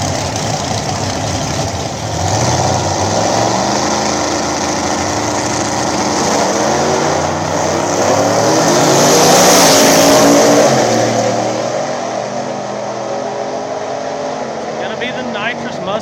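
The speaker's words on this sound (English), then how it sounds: "Nitrous Fox Body taking on the Rat Rod." A nitrous Fox Body Mustang drag races a rat rod at a small-tire event, with loud engines roaring and revving steadily for several seconds. An announcer talks over the engines.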